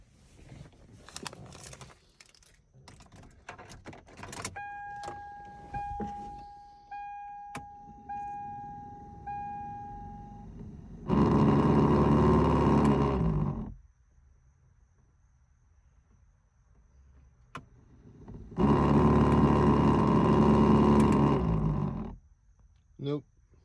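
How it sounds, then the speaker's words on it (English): The HVAC blower motor in a Toyota Tacoma is switched on for a test, giving two loud bursts of fan roar lasting a few seconds each, separated by quiet. Earlier there are clicks, handling noises and a few short electronic chimes. "Now it's ready to install the blower motor, put it in the 3 screws, plug it in, and try it out."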